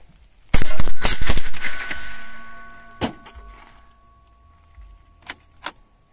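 A loud, close burst of shots from a gun at an outdoor shooting range, several sharp cracks in quick succession with a long ringing decay, then a few fainter metallic clicks and knocks.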